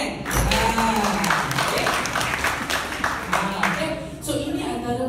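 Audience in a corporate hall applauding a vegan product, a crowd's clapping rising quickly and continuing for several seconds with some voices mixed in, then fading toward the end.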